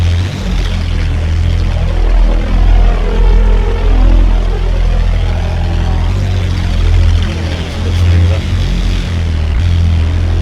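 Avro Shackleton piston propeller engines drone loudly and steadily on approach in a flight game, a dense continuous roar with low throbbing that holds throughout without a break.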